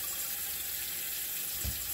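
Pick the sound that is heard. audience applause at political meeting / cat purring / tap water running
tap water running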